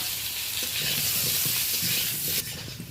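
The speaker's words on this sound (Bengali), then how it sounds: "এরপর আলুটা ভেজে নেব আর পটলটা ভেজে নেব" Potatoes frying in hot oil in a wok for a egg and pointed gourd curry, giving a dense, loud, steady sizzle close up with faint scattered crackles, easing slightly near the end.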